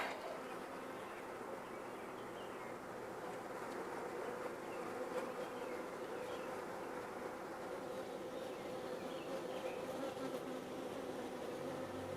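Honey bees at a starter hive fill the air with a dense, continuous buzz. The hum is even and steady throughout, and no one speaks.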